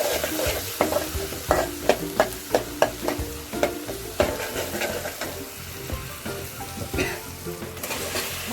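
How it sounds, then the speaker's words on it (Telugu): Ginger garlic paste sizzles and fries in a pan as a spoon stirs it with a run of quick, rhythmic scrapes and clacks, close and fairly clear, then slower, more scattered stirring with no voices. "కొంచెం అల్లం వెల్లుల్లి పేస్ట్ వేసిన తర్వాత దాన్ని బాగా కలుపుకోండి."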